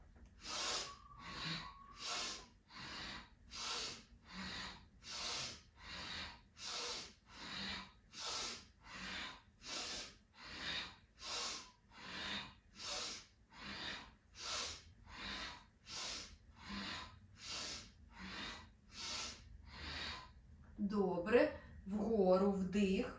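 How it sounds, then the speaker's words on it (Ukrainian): Loud ujjayi breathing through the nose during a morning yoga breathing warm-up, a steady hissing rhythm of inhales and exhales repeating about once per second, close and alone, with a voice at the very end. "Носом дихаємо. Дихання голосне, уджай."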